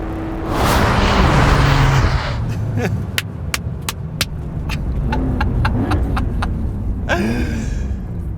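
Porsche 911 performance hybrid accelerating hard, a loud throaty rumble and roar building and easing, then a rapid run of sharp cracks or gear-shift pops, with a second surge near the end.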